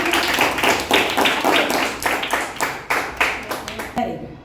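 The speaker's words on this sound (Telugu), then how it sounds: "క్లాప్స్ కొట్టండి" Children in a Telugu fifth-grade classroom clap together in a steady run of sharp, loud hand claps that fall into a rough rhythm, close and bright, ending with a few scattered claps before it stops.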